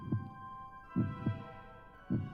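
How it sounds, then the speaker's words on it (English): Heartbeat effect with four low, muffled thumps in an uneven double-beat pattern, close and fairly quiet over a faint steady hum, with no voices. "You can hear his breathing and your own heartbeats."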